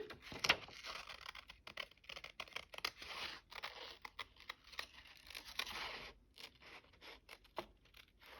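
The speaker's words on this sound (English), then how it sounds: "I think I would like to cut out this yellow piano keys" Scissors cut out paper piano keys in a quiet room with faint, irregular snips and crisp paper rustles, close by and with no voices over them.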